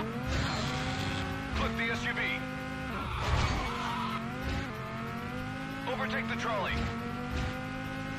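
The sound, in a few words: car drifting with tire squeal in video game Stuntman Ignition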